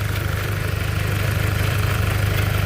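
A BMW E46 with an N-series engine idles steadily nearby, a low, even rumble with fine, regular pulsing that holds for the whole stretch, with no one speaking.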